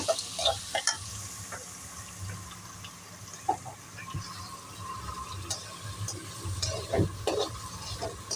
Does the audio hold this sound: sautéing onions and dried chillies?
yes